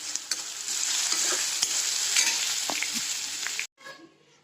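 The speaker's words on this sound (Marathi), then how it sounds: "आता कांदा आहे बघा गोल्डन कलरवर छान भाजला" Onions frying golden in a pan with a little salt and sugar, sizzling steadily with intermittent stirring scrapes, then cutting out abruptly near the end before a softer, quieter sizzle resumes.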